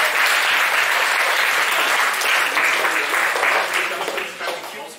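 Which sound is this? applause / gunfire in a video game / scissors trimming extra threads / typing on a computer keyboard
applause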